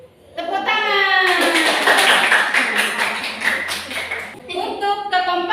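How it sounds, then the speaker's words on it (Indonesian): A class of fifth-grade primary school children claps in a classroom awards moment, a dense, loud burst of many small hands lasting several seconds, with a teacher speaking just before and after. "Tepuk tangan."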